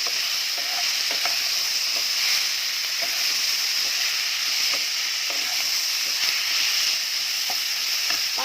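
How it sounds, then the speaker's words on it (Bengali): Five-spice seeds, dried chilli and bay leaf tempering in hot oil give a steady bright sizzle, close and continuous, with faint scattered pops and clicks of stirring throughout. "পাঁচ ফোড়ন দিয়েছি, শুকনো লঙ্কা, তেজপাতা ফোড়ন দিয়ে দিয়েছি"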